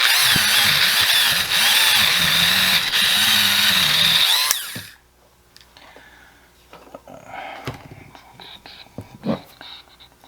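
A brass brush scrubs rust from inside the front brake hub of a 2006 Toyota Matrix 4WD, a loud, steady rasping for about four and a half seconds that stops abruptly, leaving faint handling clicks and rustles.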